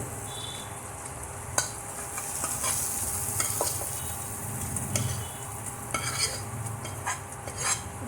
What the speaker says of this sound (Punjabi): ਤੜਕੇ ਨੂੰ ਹੁਣ ਅਸੀਂ ਦਾਲ ਦੇ ਵਿੱਚ ਪਾ ਦੇਵਾਂਗੇ